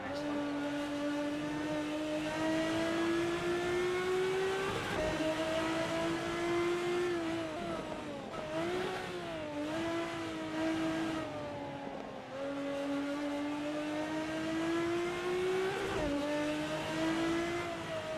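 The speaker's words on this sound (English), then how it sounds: "We use the engine braking all we can to get this thing to stop." A Ferrari 365 GTB engine in Assetto Corsa, racing at Spa, drones loudly and steadily, its pitch rising through the gears with dips and shifts as the engine brakes, alone with no voices.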